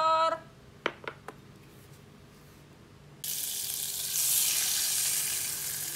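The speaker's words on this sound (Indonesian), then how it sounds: "Kalau aku mau pakai blue band aja karena mau goreng telur." Egg frying in Blue Band margarine in an electric non-stick pan, a steady close sizzle that starts abruptly after a few quiet moments with light clicks, then swells a little louder and continues alone.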